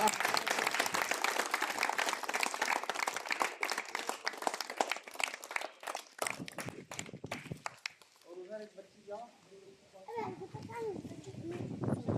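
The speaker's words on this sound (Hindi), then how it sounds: "तालियां मदन भैया का स्वागत हो रहा है" Clapping at a school Republic Day flag-hoisting event, loud mixed clapping and bustle with children nearby for several seconds, then thinning to scattered sounds as children's voices and talk take over.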